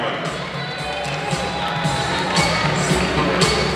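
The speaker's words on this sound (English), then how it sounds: "how about a fine round of applause for Mr. Torlong Thomas and family." A crowd at a college men's basketball senior night in an arena cheers and applauds, a broad roar with scattered shouts and squeaky court sounds, with an announcer's voice over it.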